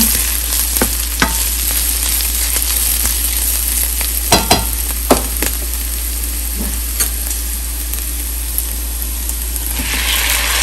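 Drumsticks, onion and tomato frying in a pan hiss in a steady sizzle, broken by occasional scrapes and clinks of stirring up close, with no voices.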